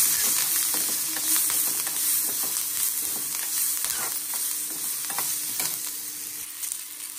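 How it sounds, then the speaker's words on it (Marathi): Onion frying with turmeric in a pan for a spicy besan curry, giving a continuous bright sizzle with crackling and scraping from stirring, steady and close, without talk. "आता कांदा भाजायला लागलाय।"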